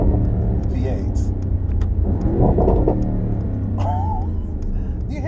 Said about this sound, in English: Mercedes has some of the most beautiful sounding V8s.